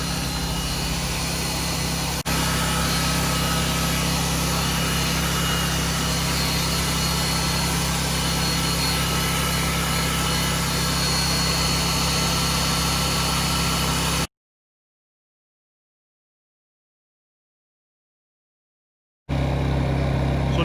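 A paddle mixer churns sealant inside a pail with a steady, loud mechanical drone that runs unbroken for about fourteen seconds, stops in a silent gap, then starts up again.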